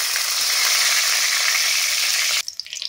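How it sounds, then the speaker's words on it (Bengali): A bay leaf and two dried chillies hit hot mustard oil in a wok, giving a loud, close, continuous sizzle that cuts off abruptly near the end, leaving faint crackles. "তেল গরম হয়ে গেছে, কড়াইয়ের মধ্যে দিয়ে দেবো আমি একটা তেজপাতা, 2টো শুকনো লঙ্কা"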